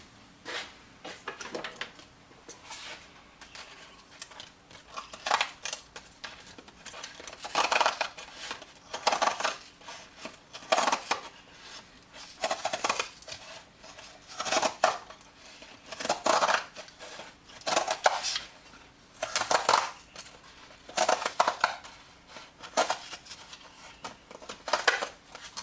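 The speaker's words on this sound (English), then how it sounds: "then I thought I'd just try a pair of tin snips." Tin snips cutting through sheet material during a trimming job, a string of sharp, crunchy snips coming in quick irregular bursts, close and fairly loud, with no talking.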